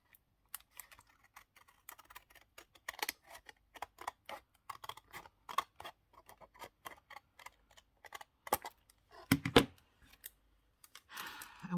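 Paper is trimmed across the top while making a mini journal, giving a run of close, crisp snipping and tapping clicks in irregular bursts over quiet background, with no talking.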